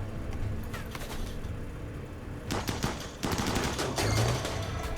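Battle gunfire in RimWorld: rapid bursts of shots crackle in clusters over a steady background hum, growing denser and louder toward the end, with no talk.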